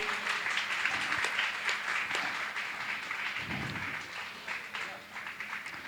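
Audience applause honoring guests at a Jain religious gathering, a steady dense patter of many hands clapping throughout, with voices faintly mixed underneath.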